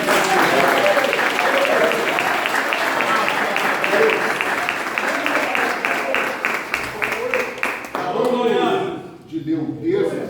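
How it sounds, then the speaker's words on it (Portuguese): A church congregation at a special anniversary service claps hands together in a fast, joyful rhythm, many claps at once filling the room. Voices carry over the clapping, which thins out near the end. "Desocupa as mãos, agora bate as palmas bem alegre."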